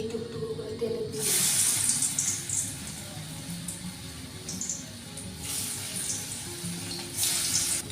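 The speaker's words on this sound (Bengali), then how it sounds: "তো তেলে এখন ভাজবো" Spoonfuls of pakora batter sizzle in hot oil over a low flame, a steady crackling hiss that swells in broad bursts as new pieces drop in, close and fairly loud with no talking.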